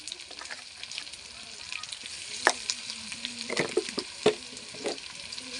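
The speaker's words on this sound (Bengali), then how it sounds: "ভালো করে আমি মশলাটা কষে নেব এবার এর মধ্যে দিয়ে দিচ্ছি আদা বাটা দিচ্ছি লবণ" Spice paste with garlic paste, ginger paste and salt frying in a pan for a mutton dish, a steady sizzle broken by several louder stirring scrapes and spatters.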